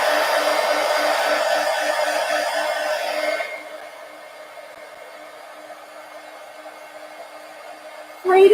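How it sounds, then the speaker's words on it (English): A heat gun blowing hot air while crafting a napkin journal, a steady loud whooshing drone that drops to a quieter hum partway through, then briefly surges again at the end. "let me hit that side with the heat gun"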